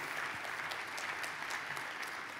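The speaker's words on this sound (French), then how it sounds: "Applaudissez." Audience applause at a Big Data Paris conference session, a dense, steady roar of many hands clapping together throughout.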